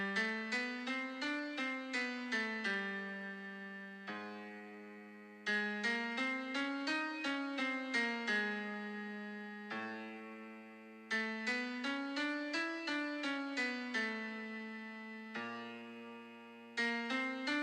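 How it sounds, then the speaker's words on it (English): A solo piano plays stepwise scale notes in repeated rising and falling runs, each note struck cleanly and left to ring, with brief pauses between the phrases. "Now you will just hear the piano"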